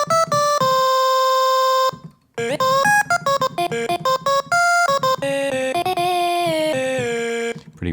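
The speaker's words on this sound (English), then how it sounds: "I just took a little section of it and made a little loop of it" Short looped sample of a woman's sung vocal, chopped and repeated in a music production program, with bright sustained tones that cut off and restart in quick stuttering bursts, loud and up close with no talking.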